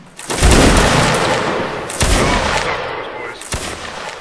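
Musket volleys crash out in a Civil War video game, with a loud ragged volley, a second volley, and then a sharper single shot, each followed by a long fading rumble.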